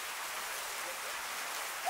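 Steady rain falls during filming of a Ramadan program, a constant broadband hiss of drops with no distinct individual hits, close and even throughout.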